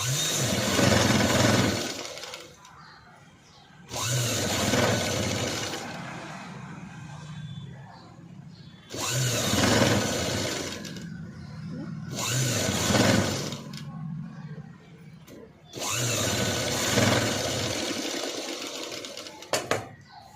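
A sewing machine stitches a padded, cut-work sleeveless blouse in short bursts of steady whirring, running about two seconds at a time with quiet pauses for repositioning the fabric between runs.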